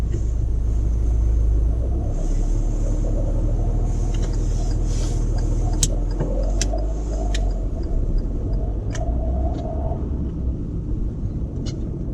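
A car pulls away during a driving test, its engine a loud steady low rumble that eases off after a couple of seconds, with faint clicks and road noise as it drives on alone, no talking.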